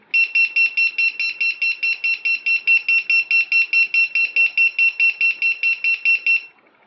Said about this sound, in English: now the buzzer is set, it's ready to go, it's all activated